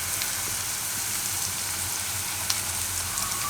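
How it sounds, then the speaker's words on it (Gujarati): Chopped green onions sizzle in hot oil as they are stirred, giving a steady, crackling fry with small, soft spatters throughout. "થોડીક વાર તેલમાં આ રીતે આપણે ફેરવીએ એટલે એકદમ સરસ થઈ જાય"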